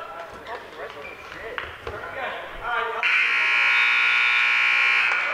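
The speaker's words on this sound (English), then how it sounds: "Three more points awarded as the buzzer sounds." Excited talk and crowd noise at a high school varsity wrestling match, then a loud, sustained electronic buzzer blares and holds to the end.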